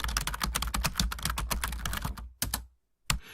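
Rapid keystrokes on a computer keyboard, a dense run of clicks that stops briefly before a final few taps, close and clear with no talking.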